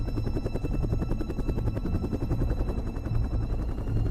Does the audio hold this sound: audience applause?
no